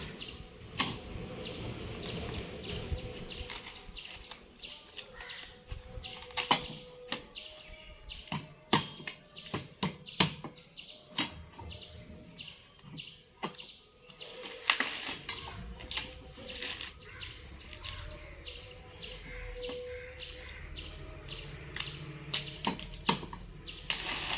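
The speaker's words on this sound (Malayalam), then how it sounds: "ഞാൻ തേങ്ങ ഉരിച്ചാണ് നല്ലോണം ഉണങ്ങിയിട്ടുണ്ട് തേങ്ങ അതുകൊണ്ട് കുറച്ച് പ്രയാസമുണ്ട്" Dried coconuts are husked by hand, producing irregular sharp cracks and fibrous snaps at close range, with birds chirping faintly in the background and no speech.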